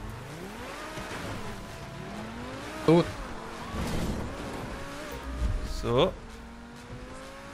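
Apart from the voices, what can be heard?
car driving in video game GTA Online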